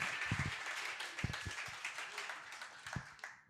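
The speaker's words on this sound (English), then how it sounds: "Let's give them a round of applause." Sparse, light clapping from a small audience at a live panel taping on blockchain, AI and entertainment, scattered individual claps rather than a full ovation, fairly quiet.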